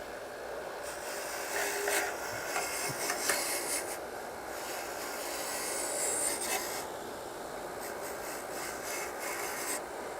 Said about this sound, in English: And we're just getting the goo off of it, the thermostat.